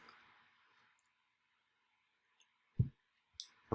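A computer mouse clicks a few times in otherwise near silence: sparse, short, isolated clicks, the last three coming in quick succession after a faint hum fades out.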